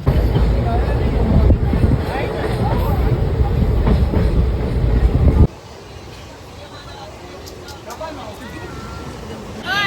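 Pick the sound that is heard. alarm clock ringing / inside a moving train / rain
inside a moving train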